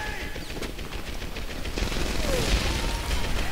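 Rapid automatic gunfire in the Medal of Honor video game crackles in dense, loud bursts, growing heavier toward the end.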